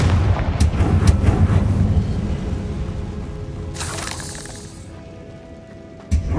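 A Confringo fire spell explodes in Hogwarts Legacy with a loud, sustained booming rumble and crackling bursts, fading out before a final sharp hit.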